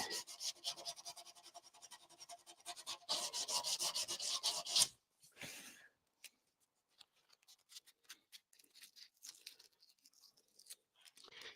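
Sandpaper of 180 grit rubbing across a smooth area of a metal tank, a dense rasping scrape for several seconds, then a pause and sparser, fainter strokes.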